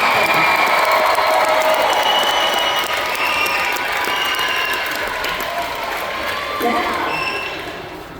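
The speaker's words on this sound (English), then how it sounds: "Let's give a round of applause to those who are making this happen." Pep rally audience applauding and cheering in a crowded hall, loud sustained clapping with shouts and whoops that gradually taper off toward the end.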